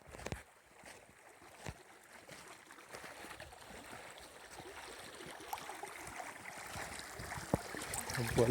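The Gudung stream, which comes down from the Pathar Kot side, flows with a steady broadband rush of water. It starts soft and grows gradually louder, with occasional small splashes and no talking.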